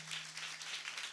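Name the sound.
audience clapping at kirtan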